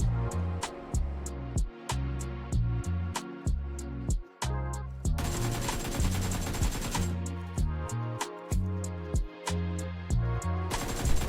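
An M249 light machine gun in PUBG Mobile fires long, loud, rapid bursts of gunfire with brief pauses between them. The bursts run almost continuously, and no voice is heard.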